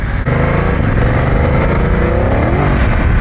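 A 2024 BMW F900GS motorcycle engine revs under throttle off-road, loud and close, its pitch climbing steadily as the rider accelerates.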